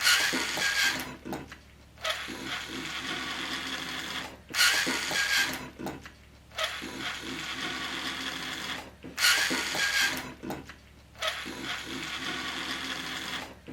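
An RC car fitted with an RC4WD 80T motor runs at full speed, giving a steady mechanical whir in repeated bursts a few seconds long, broken by brief pauses, with no talk.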